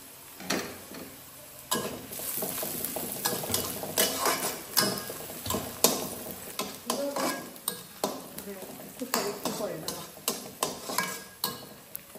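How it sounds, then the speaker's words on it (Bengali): Onions browning in a pan with a bay leaf for a pangas fish and eggplant dish, with steady sizzling, repeated scrapes and clinks of a utensil against the pan, and a faint voice now and then. "পেঁয়াজটাকে বাদামি করে ভেজে নিতে হবে।"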